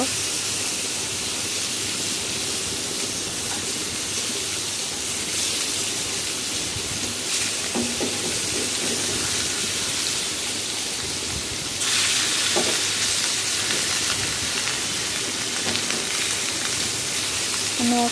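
Hilsa fish pieces sizzle steadily in hot oil in a pan, a dense continuous frying hiss that grows louder and brighter partway through as the fish is turned, with occasional light clatter.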